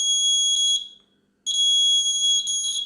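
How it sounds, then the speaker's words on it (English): A shrill electronic buzzer on a hand steadiness tester sounds in two bursts, the first about a second long, then a pause, then a second longer tone, loud and steady. "you can see buzzer goes on."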